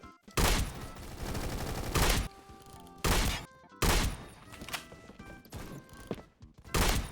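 A semi-auto shotgun in Phantom Forces fires a handful of loud, separate blasts at irregular intervals, each sharp and booming, with softer game ambience filling the gaps.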